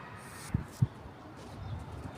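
Two soft, low pigeon coos sound close together against faint background hiss, followed by a fainter third murmur.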